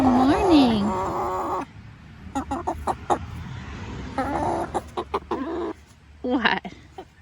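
Morning chickens in a backyard coop clucking close by in bursts, with scattered sharp calls and a person talking to them over the flock.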